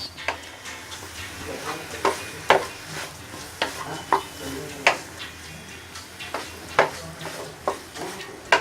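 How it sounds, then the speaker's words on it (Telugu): Small boiled potatoes fry in a pan as a utensil stirs them, sharp scraping knocks recurring every half second or so over a faint steady sizzle, close and distinct. "ఇప్పుడు మనం బాయిల్ చేసి పెట్టుకున్న చిన్నవి బంగాళదుంపలు, ఆలుగడ్డ ఉన్నారు కదా, అవి వేసుకుంటాం. ఇవి ఇలా కలుపుకుంటూ"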